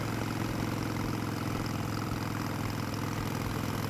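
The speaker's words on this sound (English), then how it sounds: "It's loud. You know, Harleys, you can kind of get away with being loud." A Harley-Davidson Iron 883 motorcycle idles steadily and loudly up close, its low V-twin engine keeping up an uneven, lumpy throb throughout with no talk over it.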